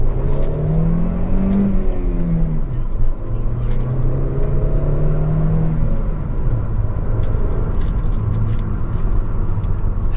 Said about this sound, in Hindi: and now raving the engine,